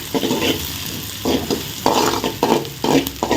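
A spoon stirs onion and potato masala as it sautés in a pan, close and fairly loud, with repeated scraping strokes over a steady sizzle and no talking.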